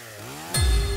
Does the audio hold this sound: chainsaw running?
yes